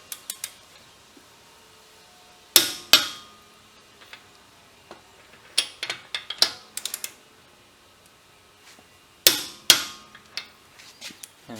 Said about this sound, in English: Turn until you get the click.